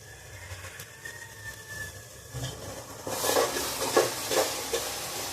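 Ginger, garlic and cumin masala frying in a pan for mutton curry, quiet at first and then a louder burst of sizzling with a few stirring scrapes, up close and with no voices.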